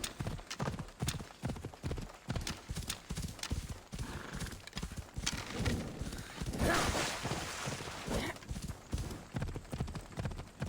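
A horse's hooves clip-clop steadily at a brisk gait in the Assassin's Creed Valhalla video game, a loud, close rhythmic series of hoof strikes with occasional whinnies and game ambience behind.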